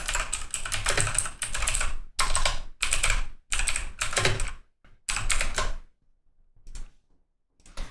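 Keys clatter on a computer keyboard in quick bursts of typing with short pauses between, close and clear, trailing off into a few isolated taps and near silence at the end.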